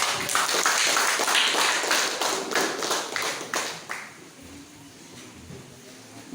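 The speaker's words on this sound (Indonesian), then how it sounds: "kita beri tepuk tangan buat kelompok" A school class at SMPN 1 Tirtajaya applauds a group with dense, rapid clapping that holds steady for about four seconds, then thins out and fades to quiet.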